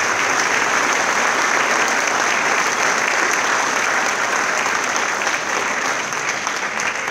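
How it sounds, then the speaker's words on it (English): A high school concert band audience at a winter concert in a school auditorium breaks into loud, sustained applause, many hands clapping densely and evenly for several seconds. "Let's give a round of applause"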